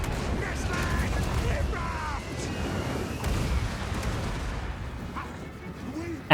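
Artillery cannons in Total War: Warhammer 3 fire a steady bombardment of rumbling booms under a continuous battle din, and a voice talks over the barrage.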